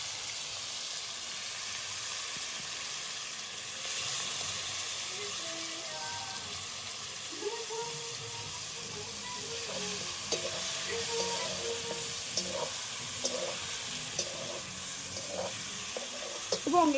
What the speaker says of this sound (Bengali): যে উপকরণটা আমি মেখে রেখেছিলাম এবার আমি এর মধ্যে সম্পূর্ণটা দিয়ে দেবো। আস্তে করে দেখবেন তেলটা যেন গায়ে না ছুটে।